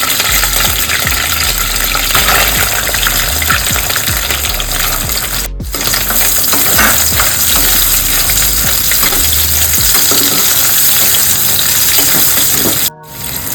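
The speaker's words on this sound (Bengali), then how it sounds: "এবার এই সাদা তেলে আমি পেঁয়াজ কুচিটা দিয়ে দিলাম।" Chopped onion hits hot white oil in a pan just emptied of fried chicken, giving a loud, steady, close sizzle that runs throughout with brief dropouts.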